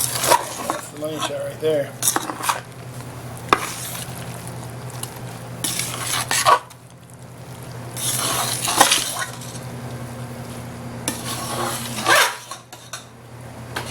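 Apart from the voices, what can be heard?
stirring pasta into sauce for mac and cheese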